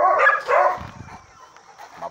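A big male dog barks and yips in a few loud bursts at first, then fainter whimpering and rustling follow, with a short yelp near the end.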